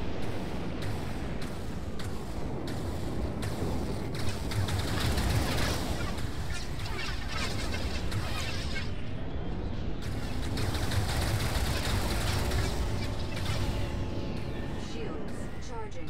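Wingmates' weapons firing in the Star Citizen video game: dense rapid bursts of gunfire crackling over a steady roar of space combat, sustained throughout at moderate volume, with a voice speaking over the action.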